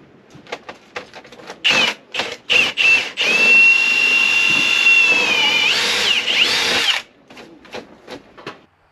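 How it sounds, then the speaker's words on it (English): A power drill with a 1/2-inch auger bit whines in a long sustained burst, pitch wavering as the bit bores through wood, framed by short clicks and brief bursts before and after. "So I just drilled a hole, a 1/2-inch hole with that auger bit"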